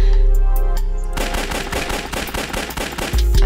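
Rapid automatic gunfire from the video game Shambles, a loud, dense burst of repeated shots lasting a couple of seconds, preceded by a brief electronic tone and with no talking.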